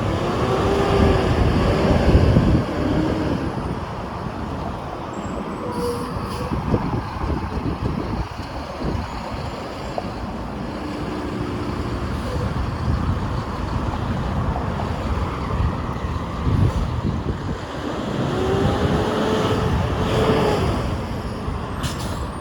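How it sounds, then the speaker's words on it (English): A broad, steady roar of rushing air from a subway ventilation shaft at Sheppard Avenue East and Yonge Street in Toronto, with outdoor traffic rumble swelling and fading around it. "There's a ventilation for the subway."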